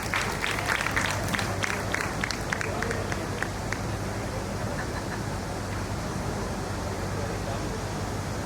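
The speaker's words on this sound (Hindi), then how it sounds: "जोरदार तालियों से अभिनंदन कीजिए" An audience at a temple award ceremony claps loudly to welcome a guest to the stage, dense applause with sharper claps early that settles into a steady wash, under a crowd murmur.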